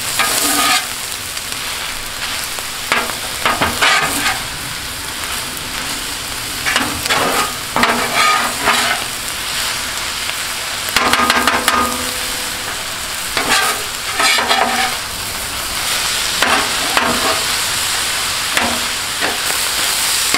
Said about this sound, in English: I'm going to go ahead and start mixing these vegetables in